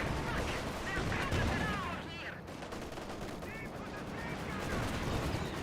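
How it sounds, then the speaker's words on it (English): Gunfire and explosions from the Company of Heroes 2 strategy game at moderate level, with a Panzerfaust launch among a dense battle mix, as a commentator talks over it. "Panzerfaust firing."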